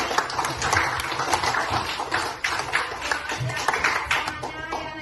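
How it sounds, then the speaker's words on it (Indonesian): A primary school class claps hands together at a teacher's request, a dense spread of quick overlapping claps filling the room at moderate level with some chatter mixed in. "Tepuk tangan dulu buat hari ini."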